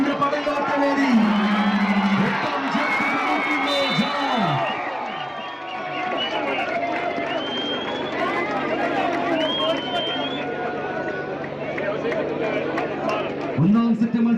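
Crowd of spectators at a JAS versus JRP match in Bangalore cheering and clapping steadily throughout, with whoops, shouts and a loud voice over a PA, dense and continuous at close range.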